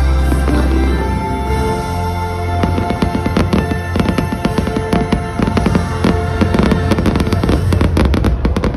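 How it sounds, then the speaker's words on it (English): Fireworks at Disneyland boom and crackle loudly and continuously over a deep rumble and a steady crowd hum, with dense bursts building toward the end. "Into Disneyland to see some fireworks."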